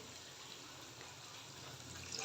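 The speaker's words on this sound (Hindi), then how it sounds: "इतना सा पानी डाल देंगे" Water poured into a hot cooking pan of spices for a cauliflower and meat curry, a continuous gushing, sizzling wash of sound without talk.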